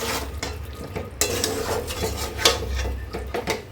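Beef liver with spices being stirred in a pot, a low simmering sizzle under repeated scraping and clinking of a spoon against the pot, close and moderately loud.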